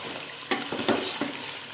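Chicken karahi cooking on high heat, a dense sizzle and fry with a few sharp scraping stirs of a spoon against the pan, close and alone without talk.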